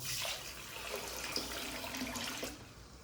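Water pours and splashes steadily into a bowl of rice and white urad dal for soaking, a continuous close trickling gush lasting a few seconds.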